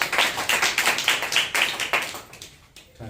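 A church congregation at a Sunday morning service claps together, a dense burst of hand claps in a quick, slightly uneven rhythm that carries for a couple of seconds, then thins out and fades near the end.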